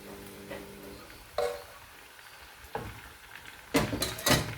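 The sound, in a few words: stirring red lentils and garlic in a pot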